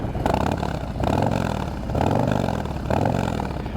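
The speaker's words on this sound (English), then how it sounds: "117 cubic inch oil air-cooled motorcycle motor" A Harley-Davidson 117 cubic inch oil- and air-cooled motorcycle engine rumbles loud and close, revving up in repeated surges about once a second.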